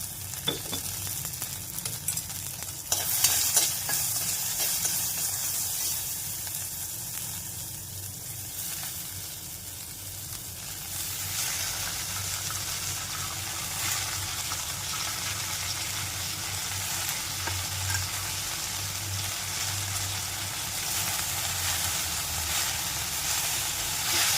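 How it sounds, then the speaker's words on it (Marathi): Wild nali greens, chopped and salted, sizzle steadily in an open pan while being sautéed, a continuous dense hiss with occasional scraping stirs throughout, no voices. "छान परतवून घ्या आणि झाकण नका ठेवू, त्या भाजीमध्ये"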